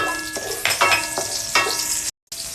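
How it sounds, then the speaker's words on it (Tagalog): Garlic and onion sauté in a hot pan as the base for squid adobo. Brief stirring scrapes punctuate a continuous close sizzle, with a short silent break near the end. "Gisa lang natin yung bawang. Gisa din natin yung sibuyas."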